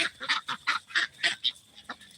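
A male Muscovy duck on a farm gives a rapid run of about eight short, raspy honking calls, close and clear, with no talking.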